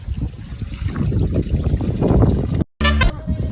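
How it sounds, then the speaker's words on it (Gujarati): Water streams and splashes steadily over a muddy tractor during a wash at a farm, a continuous rushing spray that cuts out briefly near the end before resuming with a short tonal burst. "ફાઇનલી ભાઈ ટ્રેક્ટર ધોવાનું ચાલુ કરી દીધું"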